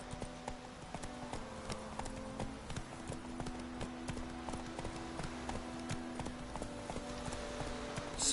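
Hooves of the horse Roach clip-clop in a quick, steady trotting rhythm through the Witcher III game, continuous and fairly close, with a faint background bed and no talk over it.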